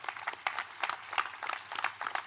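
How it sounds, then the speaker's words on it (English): Audience applause at a university summit inauguration ceremony, steady scattered clapping from a crowd in a hall, moderately faint and continuous with no talk. "give him a big clap on my behalf at least"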